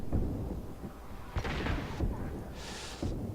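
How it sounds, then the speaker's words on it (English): Rocket launcher fire in the video game Mass Effect 2: deep booming blasts and rumbling impacts over a constant low din of battle, with a sharp burst near the middle and another toward the end. "Fucking rocket launchers. I hate rocket launchers."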